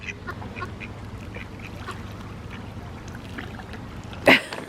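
Ducks compete with large fish for thrown food at a river lock. A steady murmur of water and splashing runs throughout, then a single loud, close quack bursts out near the end.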